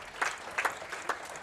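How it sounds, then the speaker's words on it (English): Applause at a para shooting World Cup women's 50m rifle three-positions final, a brief, fairly soft spell of scattered clapping with a few distinct louder claps in under two seconds. "gets a rapturous applause, and rightly so."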